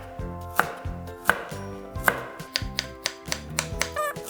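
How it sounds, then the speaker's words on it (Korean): A knife slices burdock root diagonally on a cutting board, making crisp, close chopping strokes in a steady rhythm, about a dozen cuts in quick succession with no voices. "아무래도 우리 먹기 편하게 어슷썰기해서 준비하겠습니다."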